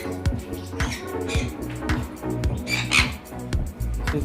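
Pet birds, including a ringneck parakeet, squawk and chatter repeatedly in an indoor bird room, a dense, continuous flock of calls close to the mic.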